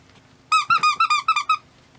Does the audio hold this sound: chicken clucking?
no